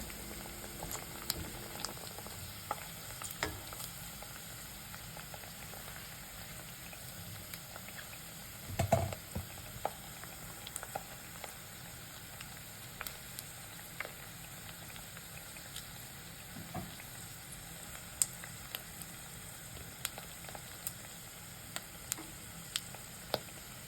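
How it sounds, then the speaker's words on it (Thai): Pork skin deep-frying in hot oil for Thai crispy pork belly gives a steady close bubbling sizzle with scattered pops and crackles, one louder burst midway, and no voices. "เราก็จะพลิกส่วนหนังนะคะ ให้อยู่ในน้ำมัน เพื่อจะให้ตัวหนังนะ กรอบฟูนะคะ"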